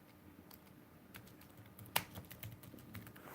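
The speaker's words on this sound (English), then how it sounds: "So I'm going to type right now" Soft, close typing on a computer keyboard, irregular clicks in short bursts with one sharper key strike near the middle, over a quiet room.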